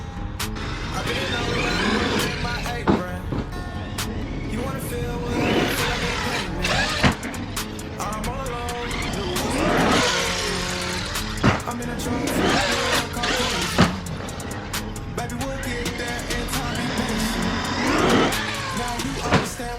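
A Traxxas Xmaxx RC monster truck running on 8S power at a skatepark, its high electric motor whine rising and falling in repeated bursts over about twenty seconds, with brief impacts and people talking in the background.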